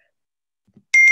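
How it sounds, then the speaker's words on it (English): A phone notification chimes for an approved deal: a short, bright electronic tone of two quick pulses, loud and clear, following a moment of near silence and a faint soft click. "What you heard right now is the notification that comes on Emily's phone"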